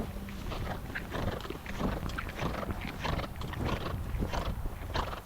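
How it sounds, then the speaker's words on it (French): Horse cantering in a riding lesson, with steady rhythmic hoofbeats on soft ground carried along under low, dense rumbling noise, moderately close and fairly quiet throughout. "Laisse le galop naturel de ton cheval"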